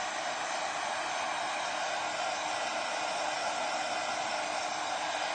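A hair dryer blows heat onto a decoupaged plastic ornament, a steady loud hissing whir that stays even for the whole stretch with no pauses.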